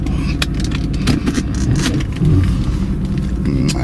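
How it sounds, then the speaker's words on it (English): A 1985 Pontiac Trans Am engine idles with a deep, steady exhaust growl, a close, continuous low rumble with a few small revs and some light clinking. "That exhaust does have a nice growl to it."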